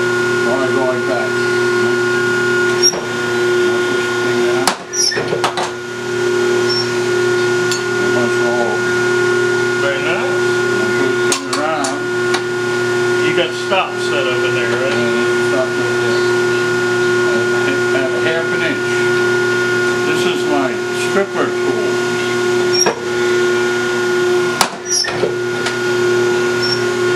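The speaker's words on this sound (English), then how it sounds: "Drilling a hole." An ironworker machine drills a hole with a steady mechanical hum and whine, loud and continuous, broken by occasional clicks and knocks.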